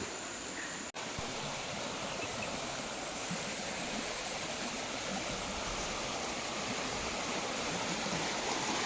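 A small stream running beside a house gives a steady, close, full rushing and gurgling flow, constant throughout with one brief dropout early on.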